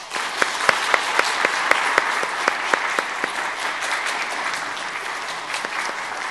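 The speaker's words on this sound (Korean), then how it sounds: "인사하실 때에 우리 박수로 환영하는 시간을 갖도록 하겠습니다." Church congregation applauding to welcome a new pastor and his wife at a Sunday worship service, a sustained dense wash of clapping with distinct claps ringing out, loud and steady for several seconds.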